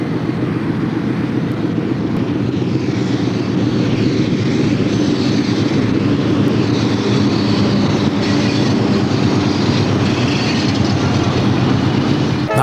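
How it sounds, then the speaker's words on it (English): A heavy coal freight train rumbles steadily past near Bethlehem with rhythmic clickety-clack of wheels on rails, loud and continuous throughout. "Here comes a short turnaround off the bridge at Bethlehem with the coal train."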